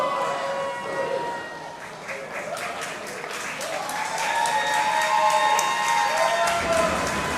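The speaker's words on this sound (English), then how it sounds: "Crowd letting them know they love seeing it." A wrestling crowd at a WrestleRave match cheers and applauds steadily after a stalemate, a loud sustained roar of clapping and shouts with whistle-like tones rising over it.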